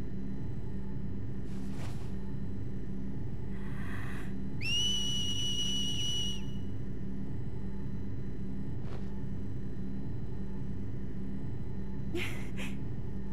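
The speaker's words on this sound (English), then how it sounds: "Wonder if a whistle would work here." A whistle sounds in the video game Dissidia 012 Final Fantasy, a clear two-tone whistle held for about a second and a half midway through, among faint scattered game sounds over a low steady hum.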